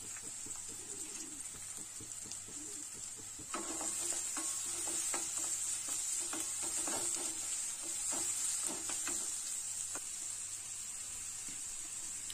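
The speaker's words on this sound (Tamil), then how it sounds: "பெரிய சைஸ் பொடியாக கட் பண்ணியிருக்கிற வெங்காயத்தை சேர்த்து அதையும் நல்லா வதக்கி விடலாம்" Chopped onions sautéing in hot oil for a Tamil broccoli mushroom stir fry, a steady soft sizzle with stirring clicks and scrapes, while birds coo and chirp in the background throughout.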